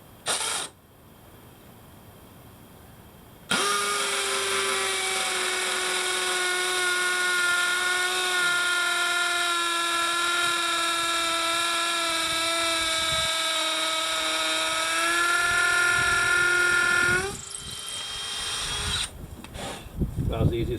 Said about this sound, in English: now drilling the holes here in the concrete after I've already pre-drilled the board for these Tapcon fasteners